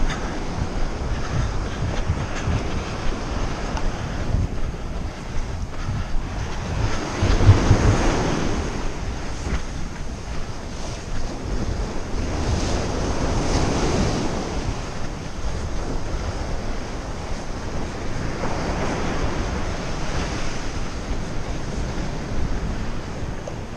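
Ocean surf at Capbreton beach on the French Atlantic coast, with waves breaking and rushing in steady swells under constant wind buffeting the microphone, loud and close, with no voices.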